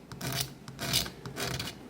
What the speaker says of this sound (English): it's scraping all these layer lines away